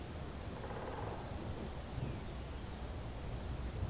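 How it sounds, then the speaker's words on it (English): Steady heavy rain and rolling thunder in the video game Space Engineers, a dense continuous downpour with low rumbling swells throughout, no voices. "Did lightning strike something? Oh geez, the rain's super thick."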